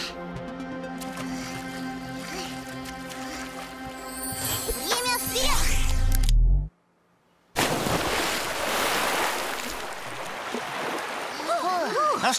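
Water rushes loudly in a children's animated cartoon: a broad, steady roar breaks in after a brief silence, following tonal music and sound effects, with voices heard at times.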